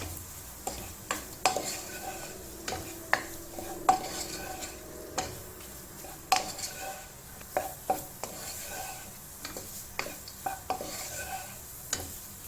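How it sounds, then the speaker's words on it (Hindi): Soya chunks with yogurt sizzle quietly in a pan while a utensil stirs and scrapes against it, making frequent irregular clinks and taps. "तो इसको हमने थोड़ा सा फ्राई करना है दही के साथ।"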